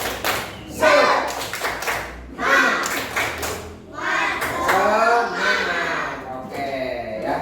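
Children do a rhythmic group cheer clap in a classroom, sharp patterned bursts of hand claps and slaps separated by short pauses, mixed with young voices chanting along.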